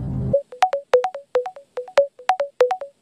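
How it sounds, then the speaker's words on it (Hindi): Telephone ringtone on a quiz show lifeline call: a clear repeating electronic trill of short bright tones in a steady rhythm, heard alone after a brief low rumble at the start. "शरद कुमार राठी को फोन करिए।"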